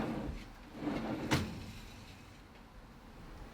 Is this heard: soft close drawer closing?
yes